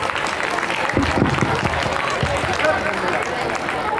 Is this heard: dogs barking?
no